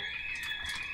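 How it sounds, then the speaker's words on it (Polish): A shrill electronic alarm blares steadily inside the Dying Light video game, a continuous high-pitched tone holding for the whole moment with faint game noise beneath and no talk. "Wyłącz alarm! Gdzie wyłącznik?"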